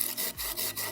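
A hand saw cuts a relief cut into wood for a permanent base camp food crane. Steady back-and-forth rasping strokes come in an even rhythm, close up and with no voices.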